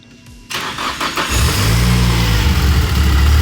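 A Nissan S15 with an SR engine fitted with VVL cranks briefly, catches and fires up, then holds a loud, steady rumbling idle with light revving, up close and with no talk over it.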